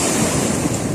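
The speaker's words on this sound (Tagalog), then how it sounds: "malakas na po yung alon" Strong ocean waves roll onto a beach late in the afternoon, a brief loud steady wash of surf mixed with wind noise, with nobody talking.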